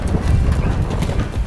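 A ridden horse on a western ranch in the United States, its hooves clip-clopping loud and close in a quick, continuous rhythm over dusty ground, with no one talking.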